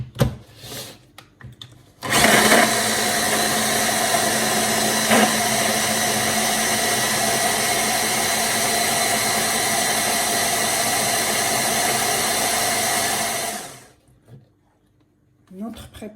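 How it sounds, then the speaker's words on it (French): A kitchen blender mixes a shrimp gratin mixture, starting abruptly and running loud and steady for about twelve seconds before winding down, with brief talk before and after. "Et je vais mixer la préparation."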